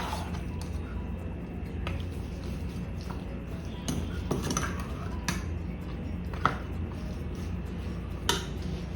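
Chicken fried rice ingredients with squeezed lemon are stirred together in a pan, a steady run of scraping and metallic clinks from a utensil against the cookware at close range, with a few sharper knocks standing out.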